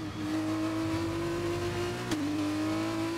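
An F1 2021 race car engine in the video game holds a loud, steady high-pitched whine, with one quick gear change about two-thirds through that drops the pitch for a moment before it settles again.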